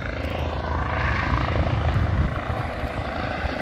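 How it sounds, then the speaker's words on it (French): A helicopter taking off roars nearby, its rotor thumping low and steady with a constant engine rumble throughout. "il y a l'hélicoptère qui décolle"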